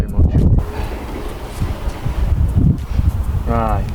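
Strong wind buffets the microphone outdoors beside a Nissan Qashqai J10 being serviced, a continuous loud rumbling roar with gusty peaks, with a voice speaking briefly near the end.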